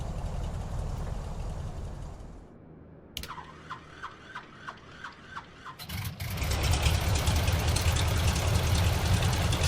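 Carenado WACO YMF-5 biplane engine in Microsoft Flight Simulator, a steady mid-pitched idle rumble that drops away briefly, returns with rhythmic ticking pulses, then swells into a louder, denser roar.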